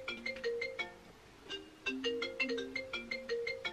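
A phone ringtone from an unwanted spam call plays a repeating electronic melody of bright tones in short bursts, fairly loud and close, with no talking over it.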